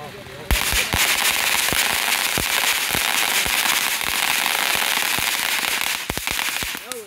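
A Wildcat consumer firework set off for the Fourth of July crackles densely and continuously for several seconds, with sharp louder pops scattered through it, and bursts of pops at the start and near the end.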